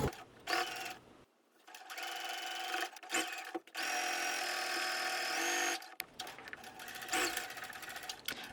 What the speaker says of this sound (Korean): 옆면을 약 1cm 간격으로 쭉 재봉해 줄게요.